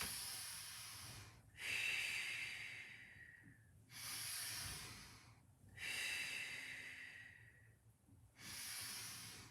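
Slow, deep breaths during a Pilates exercise, each a long airy inhale or exhale lasting about two seconds, separated by short pauses, close and soft with no talking.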